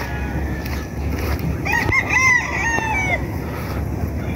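Chickens and a rooster roam outdoors on an overcast afternoon, with a rooster's crow rising over scattered clucking against a steady background hum.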